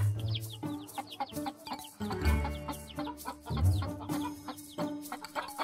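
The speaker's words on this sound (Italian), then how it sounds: "Oh mio Dio, le galline!" Hens in a barn cluck repeatedly at close range, with overlapping rhythmic clucks and occasional louder calls over a busy farmyard background.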